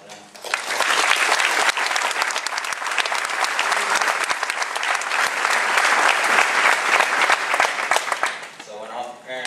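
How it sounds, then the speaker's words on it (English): Graduation ceremony crowd at UT Austin's Latino graduation giving parents a long, loud round of applause, dense and roaring with cheers mixed in, sustained for several seconds before tailing off as a voice returns. "can we give a round of applause for them?"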